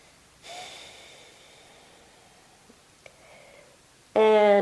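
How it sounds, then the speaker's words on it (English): A long, soft breath during a gentle yoga low-back release, a slow airy exhale near the microphone, followed later by a faint brief click and a sudden loud tonal burst at the end. "One deep breath."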